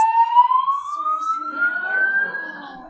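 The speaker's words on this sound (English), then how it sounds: "You guys, we set off an alarm." An alarm goes off in a conference room at a book convention in Las Vegas, a loud, continuous wailing tone that slowly rises in pitch and stays up close, with no talking over it.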